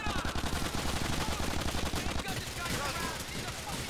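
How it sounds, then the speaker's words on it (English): Rapid, loud gunfire in Grand Theft Auto IV: The Ballad of Gay Tony, dense bursts filling the scene, with a voice speaking over part of it. "I'm just gonna shoot him from up here."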